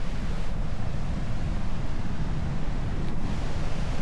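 Loud rushing water at Siffleur Falls makes a constant deep roar, heavy in the low end and steady from start to finish, mixed with some wind buffeting the microphone.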